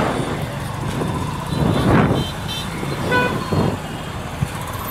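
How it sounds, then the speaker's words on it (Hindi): Busy road traffic beside a rickshaw stand near a market: a steady roar of passing vehicles with several close car horn toots and honks over it, no talking. "तो इस वजह से यहाँ पे ट्रैफिक है इतना ज़्यादा।"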